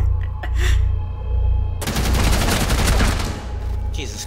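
Rapid automatic gunfire in Rainbow Six Siege, played as a diamond-rank one-versus-one match. A dense, loud burst of shots starts partway through and runs for about two seconds over the steady background of the game.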